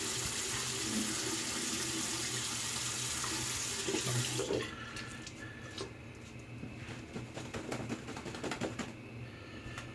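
A bathroom tap runs steadily for a cold-water rinse during a shave, a full hiss of water that drops in level halfway through and continues with light splashing and clicks, with no one speaking.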